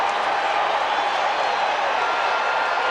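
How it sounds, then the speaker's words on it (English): Shea Stadium crowd during Game 6 of the 1986 World Series between the Red Sox and Mets makes a constant loud roar of massed voices and distant cheering. "this crowd came here to make some noise tonight"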